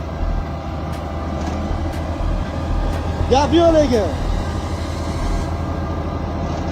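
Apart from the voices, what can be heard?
tractor pulling loaded railway-style wagons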